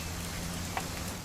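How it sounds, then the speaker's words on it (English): Rain falls in the video game What Remains of Edith Finch as a steady, soft patter that holds an even level throughout this short stretch, with no voices over it. "It's gonna rain the whole weekend, isn't it?"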